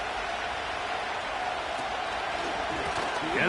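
A stadium crowd cheering in a Madden NFL 25 football game, a broad, constant roar that swells slightly toward the end, carried under a play-by-play commentator.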